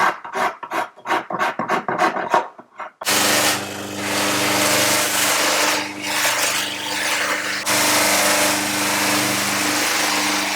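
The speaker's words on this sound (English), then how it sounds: "the technical term for what he's doing is filing out the crest" Hand file rasping across the crest of a plastic spectacle frame: several quick separate strokes, then a steady close whirring hum, likely a polishing machine, that runs to the end.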